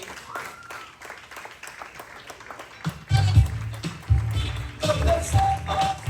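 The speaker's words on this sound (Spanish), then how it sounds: "le puede dar un aplauso a todos los hermanos hoy." An audience at a church panel breaks into applause partway through, a dense patter of clapping that follows spoken remarks and carries on loudly to the end.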